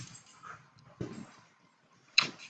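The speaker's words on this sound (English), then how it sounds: "I'm doing this at my house, and that was our dog Chaka that just ran by." Inside a house, a dog runs past, giving a few soft, scattered taps and scuffles. The sounds are faint and sparse, with quiet gaps between them and a sharper thump near the end.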